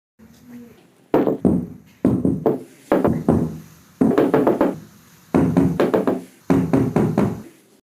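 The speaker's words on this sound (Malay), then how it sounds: "Bunyi ketukan yang kuat dari luar bilik air" Loud knocking on a bathroom door from outside, coming in about six bursts of several sharp raps each, close and forceful, spread evenly across the stretch.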